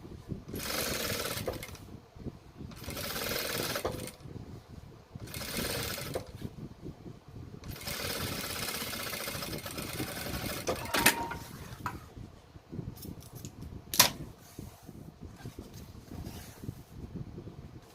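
A sewing machine stitches a bag pocket in several bursts of a few seconds each, a loud close mechanical whir with brief pauses and a couple of sharp clicks.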